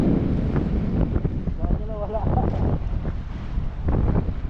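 Strong wind buffets a boat far out at sea off Palawan, 60 km/h gusts and 11-foot waves, roaring steadily against the microphone with water sloshing underneath and a voice speaking over it.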